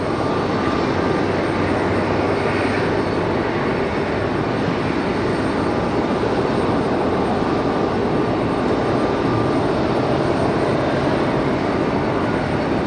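An ATR 42-300 turboprop airliner on very short final at Raleigh-Durham, a steady, loud broadband engine roar that holds evenly throughout without fading.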